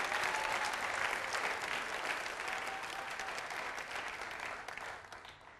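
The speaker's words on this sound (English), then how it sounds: "Give Him a hand clap of praise all over this house." A church congregation claps in praise during a Wednesday evening service, a dense steady round of applause that gradually fades toward the end.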